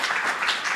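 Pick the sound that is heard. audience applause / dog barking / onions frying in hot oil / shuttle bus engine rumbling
audience applause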